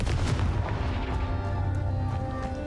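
A Confringo blasting spell from the video game Hogwarts Legacy goes off as a loud, boomy explosion that rumbles and decays over a couple of seconds, with no voices.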